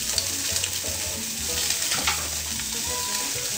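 Food sizzling in a pan as it gets a quick stir, a steady crackling fry with faint scrapes and clinks, close and without speech.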